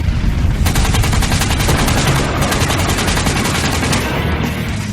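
Explosion sound effects for a podcast intro, loud and dense, with rapid crackling bursts like heavy gunfire running continuously without pause.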